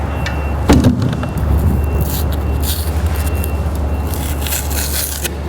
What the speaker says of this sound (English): what I'm doing here is I'm peeling the tape